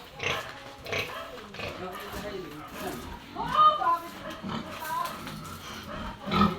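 Pigs grunting and squealing at close range, with people talking over the animal noises.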